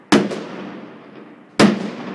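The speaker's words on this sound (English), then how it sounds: "I am eye level with fireworks." Fireworks burst at eye level outside a high-rise balcony in Shanghai, two loud, sharp booms about a second and a half apart, each trailing off in a rolling crackle and echo, with no voices.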